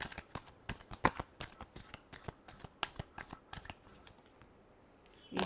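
Tarot cards being shuffled close up, a rapid run of crisp riffling flicks and soft slaps that keeps up steadily for several seconds with no talk.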